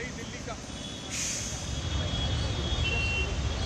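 Slow road traffic on Akbar Road, Delhi, after heavy rain and strong winds, heard as a steady rumbling wash of engines with a brief hiss like an air brake and a faint tonal beep, under a reporter's speech.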